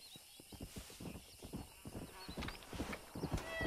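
Horse in Red Dead Redemption clip-clopping with repeated hoof steps and a neigh, fairly faint, with a few words of talk nearby.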